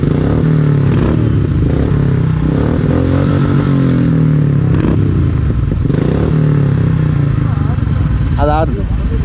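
A Royal Enfield Thunderbird 350X motorcycle engine runs loudly and steadily throughout, its low thump rising in pitch at moments as it revs, with people talking over it.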